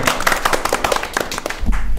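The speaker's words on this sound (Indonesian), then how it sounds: "Tepuk tangan dulu dong" Audience at a campus podcast event clapping in brief, uneven applause, close and fairly loud, with scattered sharp claps over a murmur of voices.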